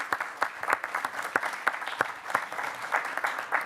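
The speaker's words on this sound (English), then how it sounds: "let's give a round of applause for Grady's Garden at Converse" A small audience claps at a board meeting, scattered individual hand claps audible in an uneven rhythm, fairly close and brief, with no talking over it.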